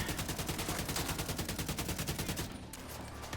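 A minigun in Division 2 fires a steady, very rapid stream of shots, loud and continuous, then cuts off abruptly near the end, leaving quieter background rumble.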